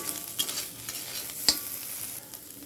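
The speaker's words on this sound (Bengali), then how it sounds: "আমি আর পাঁচ মিনিটের মতো এটা একটু আর একটু ভেজে নেব" Spice masala frying in a pan for vegetable egg noodles, a soft continuous sizzle with brief scrapes of stirring and one sharper clink, close and heard alone.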